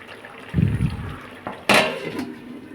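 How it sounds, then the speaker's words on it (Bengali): Lid being set back onto a cooking pot while a vegetarian watermelon-rind curry simmers in a home kitchen, a single sharp clatter standing out after a brief low bubbling rumble, fairly close. "আবার ঢাকা দিয়ে দেবো।"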